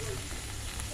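Elephant foot yam deep frying in a pan, giving a steady, close, even sizzle and crackle that runs without a break through the short moment.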